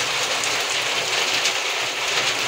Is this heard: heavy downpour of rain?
yes